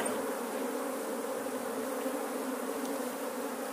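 A bee swarm buzzing around a swarm trap makes a steady, dense hum that continues unbroken throughout, fairly close and with no voices.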